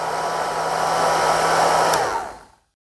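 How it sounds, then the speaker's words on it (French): Hair dryer powered by an Ecoflow River 2 Pro portable power station, a steady whooshing blower roar that cuts off near the end and quickly winds down to silence. "Et on a notre sèche-cheveux."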